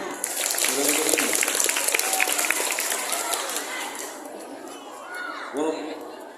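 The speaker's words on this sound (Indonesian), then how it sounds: "Beri tepuk tangan." Applause from an assembled audience at a school traffic-safety event, a broad wash of clapping that gradually thins and fades, with some voices and a brief louder burst near the end.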